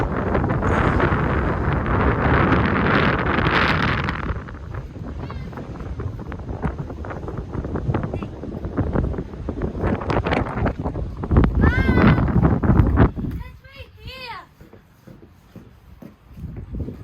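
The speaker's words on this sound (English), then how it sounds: "It's just windy." Wind roars loudly against the microphone in heavy gusts, easing and returning, while voices are faintly heard underneath, on Loch Ness near Urquhart Castle.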